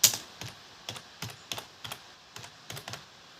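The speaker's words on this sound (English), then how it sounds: "now we will type any name over there" Keys tapped on a computer keyboard in short bursts of two or three clicks with brief gaps, close and fairly quiet, with no one speaking.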